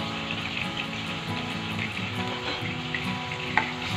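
Ginger garlic paste and green chilies frying in a pan give a steady, close sizzle with soft stirring scrapes and one sharp clink near the end, with no talking.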